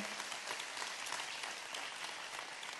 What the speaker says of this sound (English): Can we just give them a round of applause this morning?